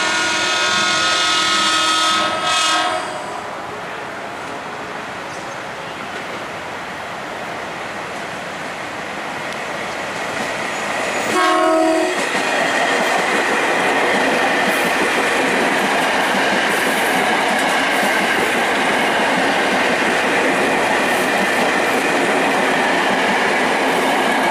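A commuter train passes the JPL 15 level crossing at Rawa Buaya, approaching with a horn blast, then a loud, sustained close-up rumble and rattle of wheels on rails.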